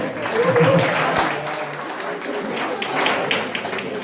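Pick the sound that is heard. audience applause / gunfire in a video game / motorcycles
audience applause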